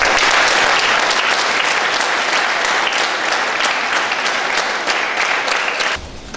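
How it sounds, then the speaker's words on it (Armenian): An audience at a kindergarten graduation claps loudly and steadily in dense, continuous applause that carries for about six seconds, then cuts off abruptly. "Իրոք կարելի է ևս մեկ անգամ ծափարել մեր ջուկիների։"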